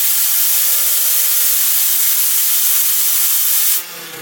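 A thin-disc 3D-printed Lego bladeless turbine rotor spins at high speed, giving a loud, steady whirring hum with a rising tone that cuts off abruptly near the end.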